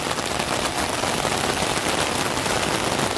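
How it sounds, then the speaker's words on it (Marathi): Rain falls on a garden where grafted saplings are planted, giving a soft, steady patter and hiss. It continues evenly for a few seconds at moderate distance, with no voices. "आता पाऊस सुरू झालेला आहे"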